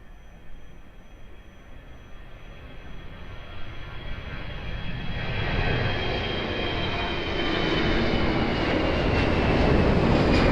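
Jet airliner taking off from runway 02 at Lisbon Airport, a broad roar rising steadily and growing louder over about ten seconds as the aircraft powers down the runway, no voices.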